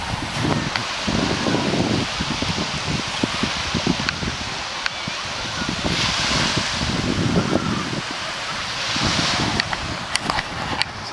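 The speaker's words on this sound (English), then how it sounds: "I'm going to take you outside so you can have a look at this glorious beach" Surf rolls onto the beach at Sandbanks Provincial Park while gusty wind buffets the microphone, the waves swelling and fading in broad washes over about eleven seconds.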